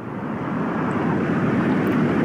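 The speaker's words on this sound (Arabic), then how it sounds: "مثلا يمكن هذا يستخدم كصوت قطار" A steady, continuous low rumble with broadband hiss, unbroken and fairly loud, like a train rolling along heard from up close.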